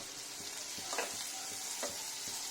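Green chillies frying with onions for a mushroom dish crackle in a soft, steady sizzle, with a few quick stirring scrapes of a spoon against the pan.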